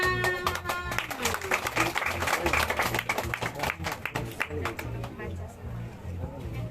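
A crowd claps in a brisk, scattered burst, the applause fading over several seconds while a voice talks through it.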